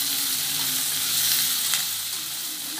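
Chopped tomatoes, with onion, sizzle steadily in a pan for kadai paneer, a loud continuous frying hiss with faint stirring.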